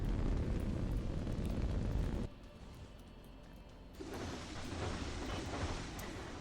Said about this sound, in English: More missiles out here. This is a full salvo.